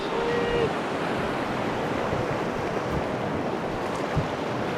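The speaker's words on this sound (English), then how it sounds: "We're going through mother-in-law rapids." Broadband rushing water from river rapids on the Green River, Section A at 1700 cfs, during a rafting run; a steady loud wash fills the whole stretch with a few faint knocks and no talk.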